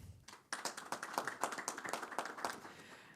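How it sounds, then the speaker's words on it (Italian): Applause for a player of the Petrarca Padova futsal team at a team presentation, a short burst of crowd clapping that starts abruptly and stays steady and fairly close for about three seconds. "facciamo un applauso"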